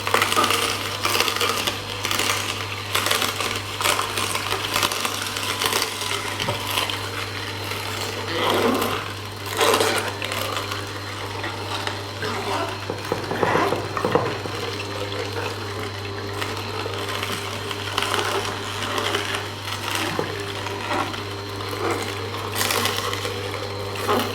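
A cold-press juicer squeezes celery stalks, giving a steady loud mechanical grinding hum with a constant motor drone, crunching and crackling as the stalks are fed in slowly.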